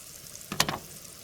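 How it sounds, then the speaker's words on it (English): Garlic fries in a pan, a soft steady sizzle with one brief louder crackling flare, close and quiet, with no talk. "Cook the garlic for a second or 20 until fragrant."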